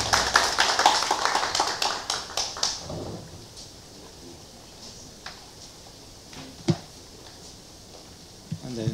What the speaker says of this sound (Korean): 여러분 큰 박수로 맞이하겠습니다.